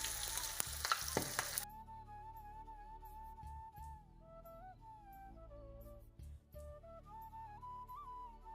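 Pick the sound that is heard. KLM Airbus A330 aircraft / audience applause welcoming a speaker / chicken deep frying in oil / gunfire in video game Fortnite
chicken deep frying in oil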